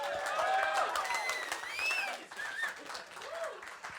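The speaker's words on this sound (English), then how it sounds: "Give Jon Di Pinto a round of applause," Audience at a hospitality industry talk giving a round of applause, moderate clapping mixed with overlapping voices and some melodic tones drifting through.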